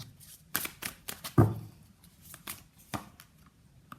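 Tarot cards being shuffled and pulled from the deck, heard as close, dry riffles and sharp card snaps in an irregular rhythm, with a louder slap partway through and no talking.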